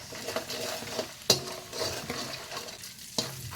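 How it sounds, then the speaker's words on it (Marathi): Puffed rice with spices, peanuts, turmeric and salt is stirred in a pan with a metal spoon: a continuous dry rustling scrape with a few sharp clinks against the pan, close and clear, without talk. "भाजल्यानंतर चिरमुरे घालायचे गॅस बंद करायचा आहे आणि पूर्ण हलवून घ्यायचा आहे"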